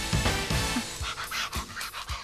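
Greyhounds panting close by in quick, rhythmic bursts of breathy huffs, with a few soft whimpering tones mixed in and no talking.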